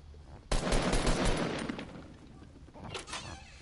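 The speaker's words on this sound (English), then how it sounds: "Why are you shooting?" Automatic gunfire bursts in a shooting video game, sharp and loud at first, then fading, with a second shorter burst near the end and a faint voice underneath.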